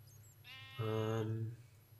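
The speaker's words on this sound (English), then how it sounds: "I got a sheep down here" A single drawn-out sheep bleat from Minecraft, clear and fairly loud for about a second, set against a steady low hum with a short voiced sound just before it.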